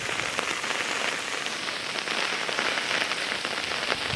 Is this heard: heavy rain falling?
yes